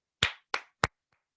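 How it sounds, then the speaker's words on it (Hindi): Three sharp, evenly spaced claps ring out close and loud at a training session, followed by a faint fourth tap, with silence between each. "एक जोरदार ताली आपके नाम।"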